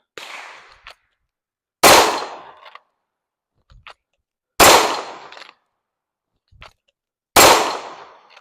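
Glock 19 and Glock 26 pistols fire at an outdoor range, three loud, sharp shots spaced a few seconds apart, each with a quick decaying echo and quieter clicks in between.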